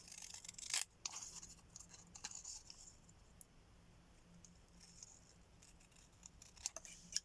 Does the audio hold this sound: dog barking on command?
no